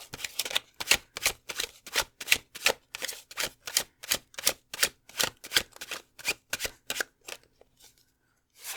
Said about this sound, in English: Let's grab your tarot cards.